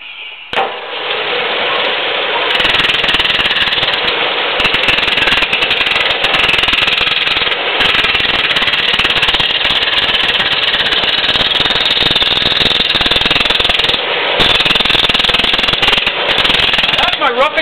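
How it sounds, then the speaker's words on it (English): A roughing gouge bites into spinning wood on a lathe, producing a loud, continuous harsh chatter that runs steadily for many seconds with only brief breaks. "That's my roughing gouge."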